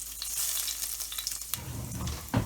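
Minced garlic sizzles in hot oil, a steady close crackle with a few scraping stirs near the end.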